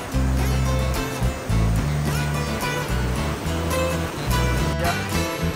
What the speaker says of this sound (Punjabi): ਇੱਥੋਂ ਆ ਨਦੀ ਆ ਰਹੀ ਆ, ਫਲੋ ਚੈੱਕ ਕਰੋ ਕਿੰਨੀ ਸਪੀਡ 'ਤੇ ਆ